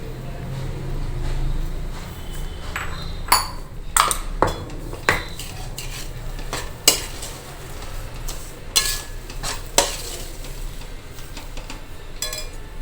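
A spoon scraping and clinking against a pan while sugar is stirred into cooked semolina, sharp metallic taps recurring every second or so over a soft steady background, with speech nearby.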